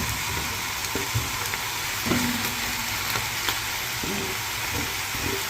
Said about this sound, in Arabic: نشوحهم بقى مع بعض تشويحة كويسة.